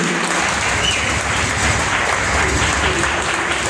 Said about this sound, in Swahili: Amor, makofi mengi.